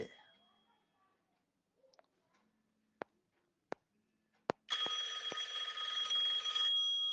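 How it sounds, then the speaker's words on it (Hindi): A phone starts ringing indoors after a few isolated clicks, its bright electronic ring steady and moderately loud against an otherwise quiet room. "फोन रिसीव कर रहा हूं मैं"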